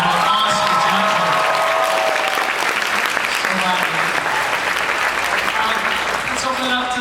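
An audience at a fan convention Q&A with an actress claps loudly and steadily for Chris Carter, a dense crowd applause with a few voices talking and calling out over it.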